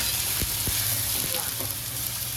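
Spices with homemade coriander powder sauté in a pan, a steady hissing sizzle with a few brief stirring knocks, continuous and fairly even throughout.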